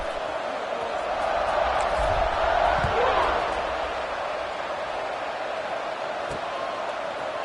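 Stadium crowd buzzing in a football video game, a broad steady roar that swells briefly and then settles, heard under a commentator's voice.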